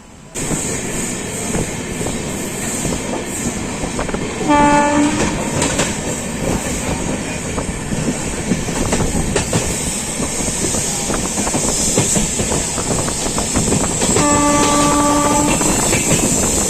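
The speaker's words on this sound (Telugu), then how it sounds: "మన ట్రైన్ అయితే బయలుదేరిపోయింది" An LHB-coach 12749 Machilipatnam–Bidar SF Express rolls along with loud, steady rumbling and clattering wheels, and its horn blares twice in long tonal blasts from close by.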